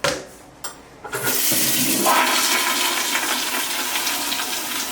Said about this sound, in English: Always test to make sure it flushes properly.